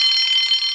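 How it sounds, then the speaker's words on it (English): An alarm rings for a railway breakdown train in a Thomas the Tank Engine story remake, a bright sustained ringing tone lasting under a second, loud and alone. "Soon came the alarm."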